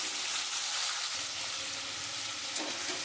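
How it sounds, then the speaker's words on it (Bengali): Bay leaf and black cumin seeds crackle and sizzle in hot frying oil left over from frying pointed gourd, a steady dense hiss throughout with a small pop near the end, no voices. "আমার ওই পটল ভাজার তেলে আমি তেজপাতা আর একটু কালো জিরে ফোড়ন দিয়ে দিলাম"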